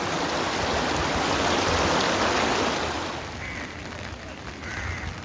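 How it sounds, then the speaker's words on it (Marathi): A stream rushes below a roughly 150-year-old British-era dam near Navi Mumbai, a loud, close, steady wash of flowing water that eases slightly toward the end. "आपण पाहू शकता किती सुंदर असा ओढा इथून वाहतो आहे"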